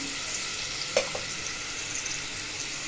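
Ground spice paste and a green chilli fry in a pan with a soft, even sizzle and a single sharp clack of a spoon near the one-second mark; fairly faint and wordless.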